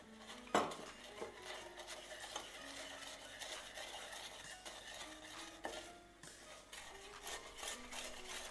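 Sugar being stirred into melted chocolate with a utensil, scraping and clinking against the bowl in steady continuous strokes, close and fairly quiet, with a sharper knock near the start.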